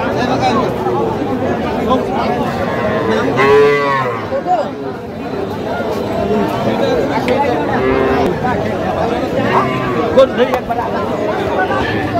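A young bull calf at a Madaripur cattle market lets out a loud, drawn-out moo partway through, amid a constant hubbub of buyers and sellers chatting and bargaining nearby.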